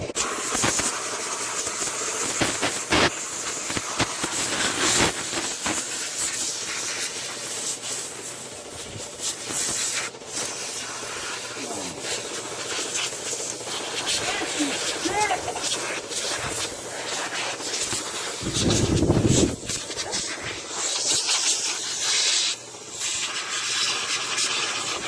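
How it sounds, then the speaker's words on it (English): Kroil penetrating oil is sprayed onto an Oldsmobile 350 engine pulled from weeds, giving a steady close hissing spray with scattered rubbing and clatter throughout. "I gotta spray this side out. Here's coating parts of it in Croil."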